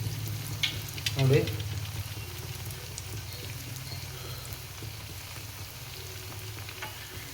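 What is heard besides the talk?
frying dessert in hot oil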